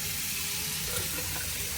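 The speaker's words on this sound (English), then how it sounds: "And let's do the same with the faucet." A bathroom sink faucet running in an ocean-view cabin aboard the Carnival Conquest cruise ship, a close, steady hiss of flowing water for the whole moment.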